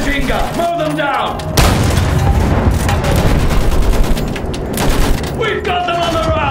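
Battlefield 1 machine gun fire erupts in a loud, sustained burst of rapid shots and booms after a brief spoken line, with a voice returning near the end.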